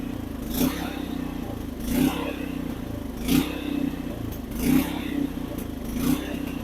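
Powersmart 3600 watt inverter generator running steadily, a loud close engine drone with a low hum and rhythmic clattering surges about every 1.4 seconds.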